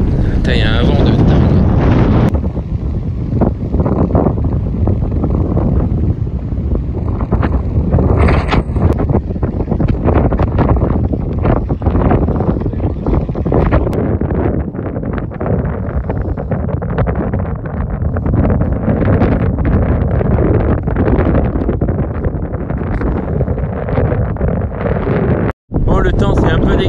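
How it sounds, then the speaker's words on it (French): Strong coastal wind on the Baie de Somme near the sea, roaring and buffeting the microphone in loud continuous gusts for the whole stretch, with a brief dropout near the end. "il y a un vent de dingue"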